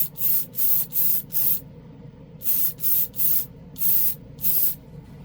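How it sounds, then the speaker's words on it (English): Short, even bursts of hissing spray from a clear coat paint gun, about ten bursts in a steady rhythm with brief pauses, close and loud over a faint background hum. "Maybe we'll go ahead and put a clear coat over"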